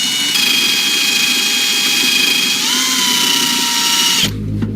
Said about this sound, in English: Chris is going to start drilling out the spot welds, but the idea here is not to go all the way through